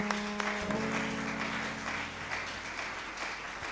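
Congregation applause during a Sunday church service, a steady moderate clapping wash with a sustained musical tone underneath, fairly faint and continuous.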